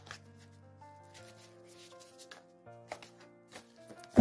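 Tarot cards from a thick deck being shuffled by hand, several soft riffling bursts over a steady background of sustained music.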